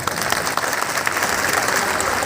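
An audience at an oath-taking ceremony in Mau applauds steadily, a dense and even wash of clapping that holds at a fairly loud level without pause.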